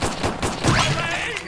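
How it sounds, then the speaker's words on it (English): Gunfire erupts in a SpongeBob-themed video game near the Chum Bucket, a quick loud burst of several close shots with sharp cracks and a brief ringing tail, no speech. "They shoot me."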